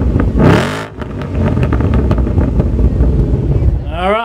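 A supercharged 2024 Ford Mustang engine rumbles and revs near the exhaust pipes, with rising throttle sweeps at the start and end, under wind buffeting and brief talk.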